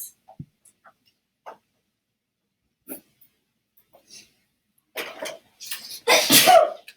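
One loud, close sneeze bursts out near the end of a quiet classroom stretch, after a few faint clicks and small sounds.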